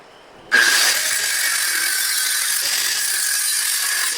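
A grinding wheel bites into a long steel piece in a home garage, snapping on abruptly into a loud, steady, high-pitched metallic whine that holds without pause.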